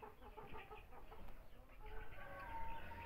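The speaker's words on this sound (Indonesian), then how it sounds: "Ini angrem telur ayam cemani." A brooding Cemani hen sitting on eggs gives soft, low clucks and murmurs, close and quiet, with a few brief higher chirps toward the end.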